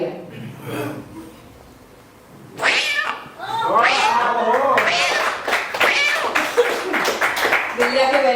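A boy vocally imitates a cat, giving a run of drawn-out, wavering meows and yowls up close, starting after a quiet stretch and continuing loudly to the end, with what sounds like a few claps or chuckles in the background.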